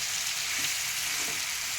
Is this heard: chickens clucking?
no